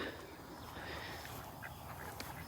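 Ducks quacking on a homestead, faint and somewhat distant over a steady outdoor background hiss, with a few short calls scattered through.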